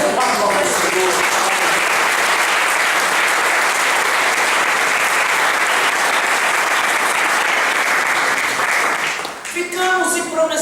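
A church congregation bursts into loud, dense applause that holds steady for about nine seconds before dying away as a voice resumes speaking.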